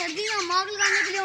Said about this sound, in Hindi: ये आ गई वो चिड़िया मोटी, ये देखिए चिड़िया, ये बड़ी ज़बरदस्त है।